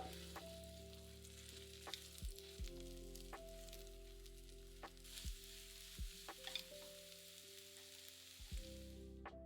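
Four beaten eggs seasoned with salt and pepper scramble and fry in a pan for egg fried rice, giving a steady sizzle with scattered scraping and clinking of a utensil and a low background hum throughout.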